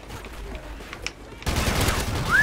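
Gunfire in a Call of Duty Ghosts multiplayer match erupts halfway through as a dense, loud burst of shots after quieter background noise and brief talk.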